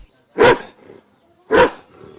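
An agitated guard dog gives two loud, deep barks about a second apart, close by, with quiet pauses between.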